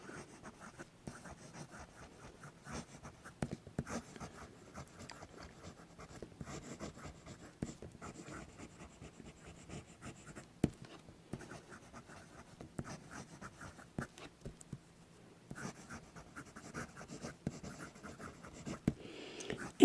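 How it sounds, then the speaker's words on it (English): A fountain pen writes on paper, making faint, close scratching and tapping strokes that come in irregular bursts with brief pauses, and no one talks. "All right, we'll do some quick writing."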